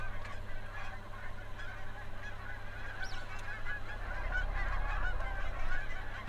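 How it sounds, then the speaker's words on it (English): Geese honk repeatedly as a flock passes overhead outdoors, calls rising and falling at moderate distance over a steady low background rumble, growing slightly louder toward the end. "Sorry for the geese passing by."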